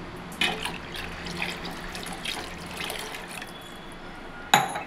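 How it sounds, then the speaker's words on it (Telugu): Tamarind juice made from 100 grams of tamarind is poured into a cooking pan for a spicy fish curry, a soft continuous liquid splash with a sharp clatter near the end. "ముందుగా మనం కలిపి పెట్టుకున్న 100 గ్రాముల చింతపండు పులుసుని ఈ విధంగా వేసుకోండి."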